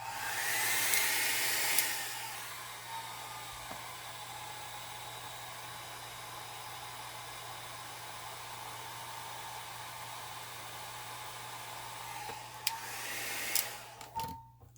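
A hair dryer blows steadily over an alcohol and acrylic ink flower painting, a close, constant whooshing hum that starts and stops with brief bumps and clicks near the beginning and end.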